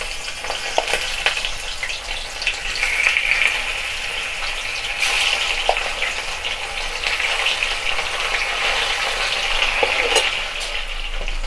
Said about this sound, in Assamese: এয়া মোৰ কেৰাহী গৰম হোৱাত মাছ কেইপিচ দি দিলোঁ।